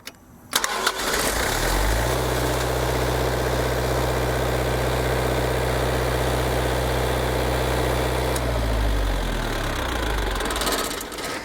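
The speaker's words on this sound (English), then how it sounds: "PowerTech generator. It is warm. It's been running." A warm PowerTech generator on a 1996 Prevost Country Coach runs steadily from a start, a loud, even low-pitched engine drone with harmonic hum that holds for about nine seconds before winding down near the end.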